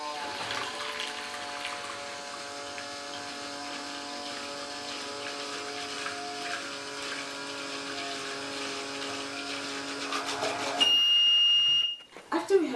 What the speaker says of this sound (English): the Arduino is going to be sending a high signal to the buzzer